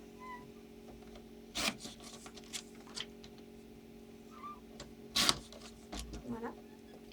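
Scissors or a cutter trim a sheet of decorative paper for a handmade pop-up birthday card, giving a few short, crisp cutting and rustling strokes over a low steady hum in a quiet room.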